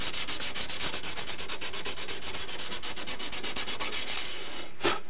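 Close, steady back-and-forth strokes of 240 grit sandpaper on a model submarine hull, an even rhythmic rasp for several seconds before ending with a brief knock.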